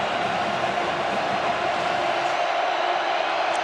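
A dense, steady roar from a college football stadium crowd at Utah versus Arizona State, loud and continuous with no breaks or distinct voices.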